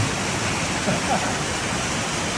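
A set of waterfalls on a tour in Croatia, a steady, close, full rushing roar of falling water that fills the whole stretch.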